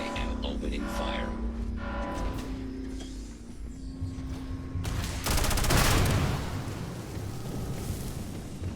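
Gunfire in the video game Starfield erupts inside a closed-off facility, a dense rattling volley of shots swelling loudly over steady game background noise near the middle and then fading to a rumble.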